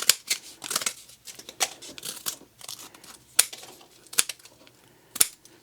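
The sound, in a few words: cutting with VT Vamplier Tools 011 combo scissors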